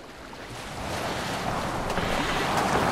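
A boat sails on ocean waves in the Assassin's Creed Valhalla video game, with a steady, full rush of surf and wind that swells slightly and continues without a break.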